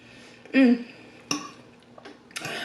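A single loud, throaty burp rises close to the microphone, followed by a few softer clicks and faint mouth or throat noises in a quiet room.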